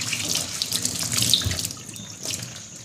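Tap water runs steadily into a sink while washing, a close, continuous splashing stream with small spatters, heard alone without talk.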